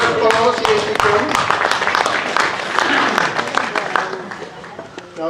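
An audience at a magic show claps and cheers loudly for a volunteer, a dense, steady burst of applause filling the room for several seconds.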